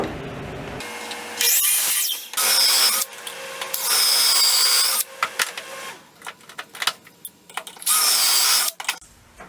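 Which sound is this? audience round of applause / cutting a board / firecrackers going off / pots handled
cutting a board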